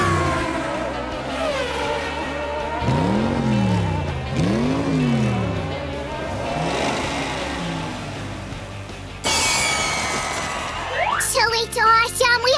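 Hot Wheels toy cars race down a cardboard track while roaring engine and revving effects with swooping pitch run steadily underneath, ending in a sudden bright scrape and skid-like rush.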